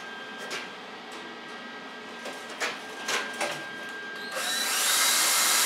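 A tool cuts a piece in half during the build of a peat moss spreader, several short clicks and taps first, then a steady, rising whir that continues to the end.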